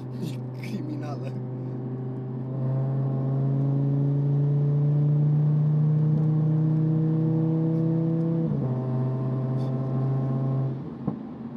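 A tuned 650 hp Audi TT RS engine revs, its droning note climbing steadily while the car accelerates. There is a brief dip as it shifts gear, then the pull continues, loud and close.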